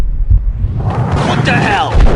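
An explosion in the video game Max Payne, a deep booming blast with a rumbling low end that swells and lingers into a fizzing, crackling tail, loud and close, with a voice heard in the mix.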